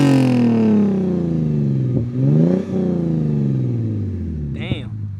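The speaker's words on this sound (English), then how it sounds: "I'm about to rev the car for you guys. This is then now with a resonator delete and a muffler delete." A Lexus IS350 with resonator and muffler delete revs loudly nearby, its raspy engine note swooping up and down through several throttle blips, with a voice briefly heard near the end.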